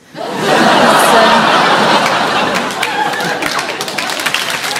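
A studio audience at a comedy show breaks into loud, sustained clapping mixed with laughter, rising quickly and staying dense before thinning slightly toward the end.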